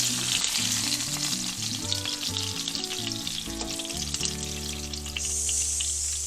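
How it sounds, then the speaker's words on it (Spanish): Fish fillets for escabeche sizzle and crackle steadily in hot oil, a continuous close frying hiss with occasional pops, over some low background music. "Seguimos friendo los demás filetes hasta terminar."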